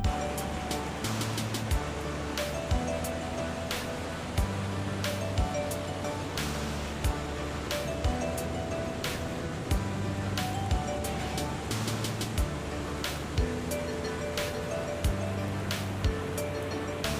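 Ocean waves wash onto the beach at San Juan, La Union, a steady broad surf rush with repeated crisp clinks and clicks over it and a low rumble underneath, with no talking.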